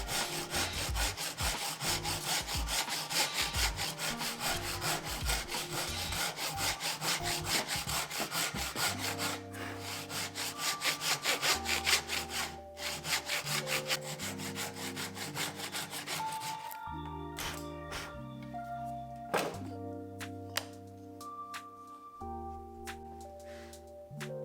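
Hand saw cutting wood for the nose air intake of a wooden Gundam model, with steady rhythmic strokes close by for the first half. Quieter scraping and tonal knocks follow. No talking.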